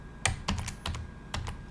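Quiet, close typing on a computer keyboard as a wget command is entered: a handful of crisp key clicks in two short bursts, with no talking.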